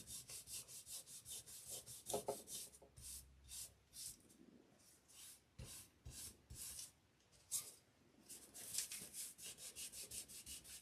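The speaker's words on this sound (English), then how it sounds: "I'm using a diaper wipe to put all this on." Soft repeated rubbing strokes as finish is wiped onto a wooden gift box, about 8 by 7 by 3 inches, using a diaper wipe, steady and close with no talking.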